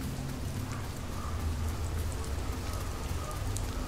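Rain falls in the woods around a lookout in the video game Fears To Fathom: Ironbark Lookout, a constant patter of drops with a low hum beneath, moderate in level and steady throughout.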